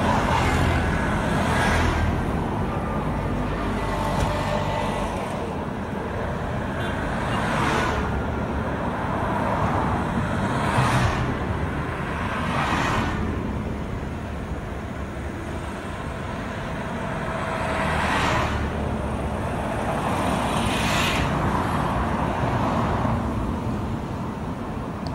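Road traffic on Country Home Road off Sapele Road in Benin City, with a steady roar of cars and trucks and several vehicles passing close by in turn.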